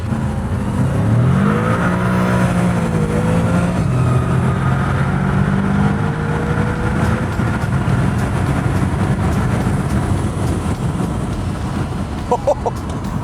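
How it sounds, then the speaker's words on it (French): A Lamborghini accelerating hard in a straight-line race against a BMW, its engine note climbing through rising revs with a gear change midway, loud and sustained inside the cabin. "elle accélère très fort, elle te colle dans le siège"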